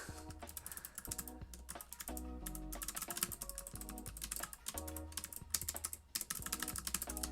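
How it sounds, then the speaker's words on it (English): Quick typing on a computer keyboard, with rapid clattering keystrokes in steady bursts and brief pauses, close and faint, with background music underneath. "I finished typing the problem"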